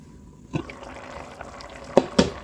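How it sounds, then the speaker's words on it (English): A pot of water comes to a boil on the stove with a soft, steady bubbling wash. A few louder pops break through toward the end, and no one talks. "we've gotten our pot to a nice boil"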